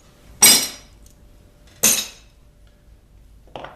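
Glass pieces being cut to a pattern, with two sharp, loud snapping breaks about a second and a half apart and a fainter clink at the end, close by with no talk.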